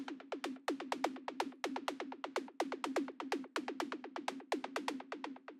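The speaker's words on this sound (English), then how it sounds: "the last sound that we have here is this little white noise tom thing" A short synthesized tom-like hit built from white noise and an Operator synth repeats in a rapid, steady pattern of dozens of crisp pitched thumps with noisy attacks, clean and alone.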